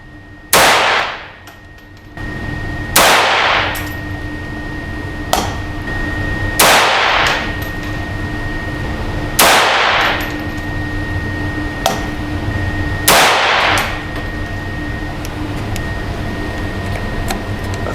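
Five sharp pistol shots ring out one at a time, a few seconds apart, during a pistol match, each a loud crack with a short ringing tail. A steady low hum runs beneath them.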